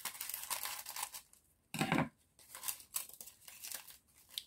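Packaged cactus plants are unwrapped, paper tearing and crinkling in irregular close bursts, with one louder rustling grab near the middle and quiet pauses between.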